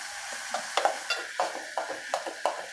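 Ridge gourd pieces frying with onions in a pan, with a steady soft sizzle under a series of regular stirring scrapes, about one every half second, heard up close.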